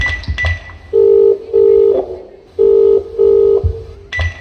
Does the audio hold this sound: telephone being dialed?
yes